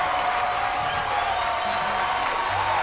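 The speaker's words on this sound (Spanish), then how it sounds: "Démosle un fuerte aplauso." Audience applause and cheering welcome a singer on stage, a dense, steady wash of clapping and crowd noise, loud and sustained throughout, with faint voices underneath.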